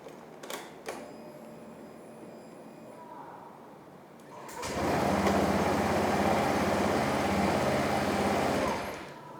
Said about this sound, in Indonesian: itu tadi adalah suara